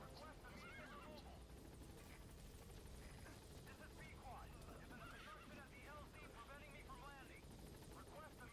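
Horse whinnies repeatedly in Metal Gear Solid: The Twin Snakes, rising and falling over a steady helicopter-like rotor drone, with a voice talking at times.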